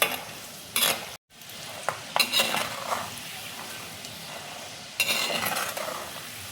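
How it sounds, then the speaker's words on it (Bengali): Peanuts frying in a pan over a medium flame, a steady close sizzle broken by scraping stirs and clinks of the utensil against the pan, with a brief dropout near the start. "বাদামটা দেখো আমি মিডিয়াম ফ্লেমে ভাজছি"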